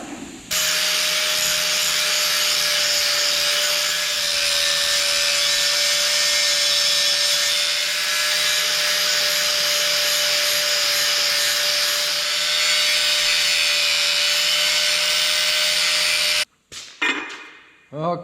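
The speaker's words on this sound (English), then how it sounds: "Looks like we got a little grinding to do." A grinder bites into a front axle in a shop, a loud continuous high-pitched whine held steady for about sixteen seconds up close before it cuts off abruptly.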